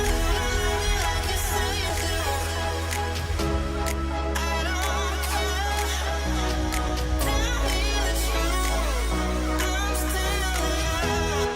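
A dense, loud remix of a song plays continuously, with layered strings over booming orchestral percussion and a steady low bass that shifts every few seconds; no one speaks.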